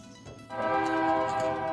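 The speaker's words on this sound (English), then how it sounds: "you can hear the train in the background" A train horn sounds outdoors during a solar eclipse gathering, a steady, loud harmonic blast that starts after a brief moment of low rumble and holds to the end.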